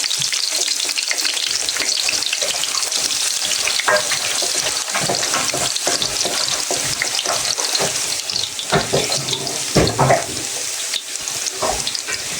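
Whole cumin seeds fry in a little oil in a pan, giving a steady, loud sizzle with scattered crackles and the clatter of stirring, alongside sounds of running water.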